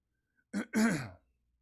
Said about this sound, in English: you guys really don't want to hear me clear my throat